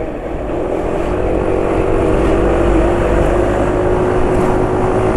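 A motorcycle engine idling steadily after an oil change to Maxious Syntomix, a loud, close, continuous mechanical drone with a constant low hum and faint rattling texture, no talking.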